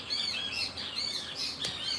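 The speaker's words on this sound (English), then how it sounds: "I hope you can hear the birds singing." Several birds chirp and sing continuously in a tropical garden beside a verandah, with bright, repeated tweets layered over steady background ambience and no talking.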